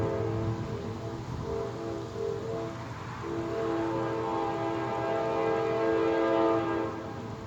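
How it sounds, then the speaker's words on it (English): A Norfolk Southern freight train sounds a long, sustained multi-tone horn blast that swells slightly louder toward the end, heard at moderate distance over steady rumbling rail noise. "so guys, that was the horn."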